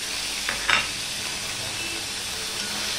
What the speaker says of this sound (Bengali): দিয়ে ফোড়নটা ভালো করে হতে দেবো।